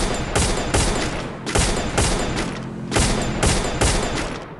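Bursts of rapid automatic gunfire crackle through a solo-versus-squad shootout in a battle royale video game, with several loud volleys separated by brief gaps and no voices.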